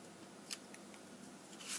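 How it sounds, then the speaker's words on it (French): Quiet, close crackling and papery rustling as backing is peeled from double-sided tape, with a couple of small sharp snaps. "J'enlève l'arrière du scotch double face."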